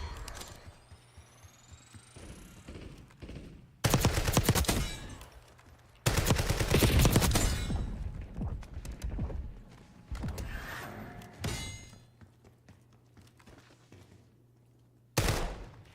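Heavy video game gunfire on a PS5 stream, with loud repeated bursts of rapid automatic shots, some long sustained volleys, separated by quieter stretches of low hum.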